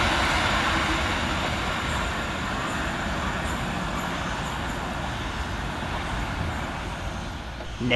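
A Merseyrail class 777 electric train, unit 777-140, runs through Rice Lane station with a steady, loud broadband rumble and rail roar that holds across the whole stretch, easing slightly toward the end.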